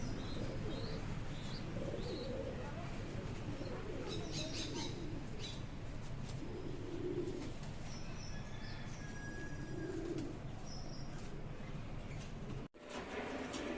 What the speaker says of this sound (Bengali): এই ফিল্ডব্যাক কবুতরগুলি সেল হবে